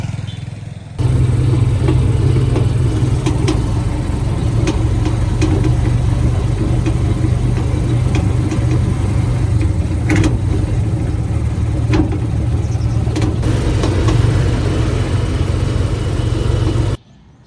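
A motorized tricycle engine runs continuously and close for about sixteen seconds, a steady low rumble with small clicks and rattles, starting abruptly and cutting off at the end.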